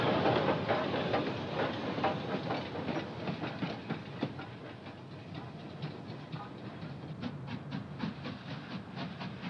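Steam locomotive No. 5025 pulling away along the coast near Erbusaig Bay on the line to Inverness, a steady rumble of wheels and carriages with rhythmic clickety-clack and some hiss, fairly close and continuous throughout.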